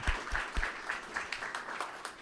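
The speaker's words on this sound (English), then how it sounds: "Let's give a round of applause, guys," Audience applause at a panel discussion, a faint, somewhat distant patter of clapping with a few louder thumps near the start, continuing steadily to the end.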